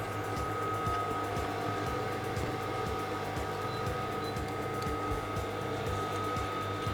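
Sewing machine top stitching the lining of a Yoruba fila cap, a steady motor hum with rapid regular needle ticking throughout, close and moderately quiet with no talking.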